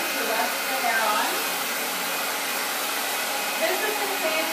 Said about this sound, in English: I'm using my blow dryer again to rest the hair on.